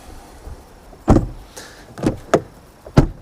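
Audi RS6 car door being opened and shut, several separate clunks and latch knocks close by, each followed by a short quiet gap, with no talking.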